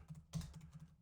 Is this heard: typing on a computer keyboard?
yes